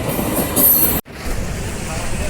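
A train rolls past the railway gate near the Sakshigopal temple in Puri, loud and close, with a rumbling wheel roar that cuts out briefly before resuming steadily.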